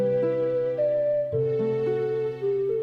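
A theme from the video game The Legend of Zelda: Ocarina of Time, rendered as a sustained synth melody over held chords, clear and upfront with no talking.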